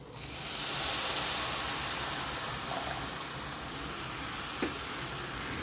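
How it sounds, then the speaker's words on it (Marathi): Cold milk poured into hot roasted coconut mixture in a pan after the gas is turned off sets off a broad, steady sizzling hiss that swells early and then fades slowly, with one small click near the end. "हे जे आपण भाजून घेतलेलं आहे त्याच्यामध्ये मी हे दूध घालणार"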